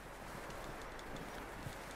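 Horse hooves clip-clop in Red Dead Redemption 2 as several horses move through trees, a soft, steady patter of hoofbeats buried in broad background noise, faint and distant with no talking.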